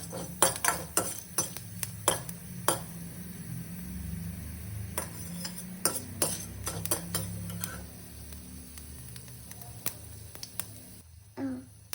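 A spoon scrapes and taps a pan as a spoonful of chana dal is stirred and roasted for tondekayi palya, with quick irregular clicks over a faint sizzle, fairly quiet and close.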